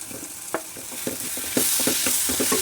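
Vegetables such as potato, tomato, cauliflower, pumpkin, carrot, brinjal and drumsticks being stirred into sambar with tamarind in a pot make repeated close, rhythmic spoon knocks and scrapes over a soft bubbling hiss, with no voices.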